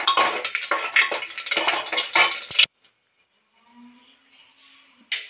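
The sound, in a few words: cumin and bay leaf tempering sizzling in oil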